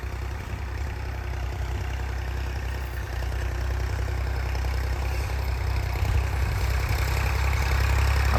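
A Massey tractor with water-ballasted tyres hauls a heavy 550 kg 16-disc harrow on test, its engine giving a steady, low, continuous rumbling drone throughout.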